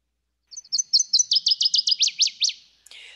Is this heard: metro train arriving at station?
no